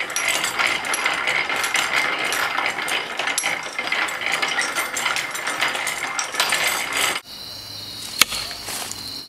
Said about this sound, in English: It's flywheel driven and it has an automatic indexing mechanism